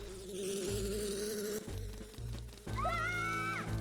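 Bees buzzing from a beehive shot down in the Majora's Mask video game, a steady droning hum with shifting tones and game music running throughout.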